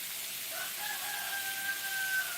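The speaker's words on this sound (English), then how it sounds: "There's your first rooster sound." A rooster crows once in the distance, a faint drawn-out call rising and holding over a steady background hiss, with no talking.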